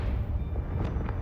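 A Confringo fire spell cast in Hogwarts Legacy bursts as a dull, rumbling boom, a short, low, muffled blast that holds steady for about a second.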